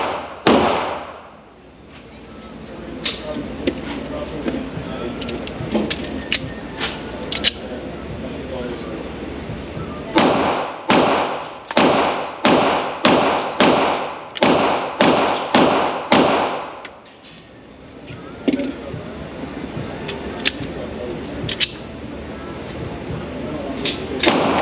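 A PSA Dagger Compact pistol fires sharp, close cracks, with scattered single shots at first, then a rapid string of about ten, then a few more spaced shots over a steady background.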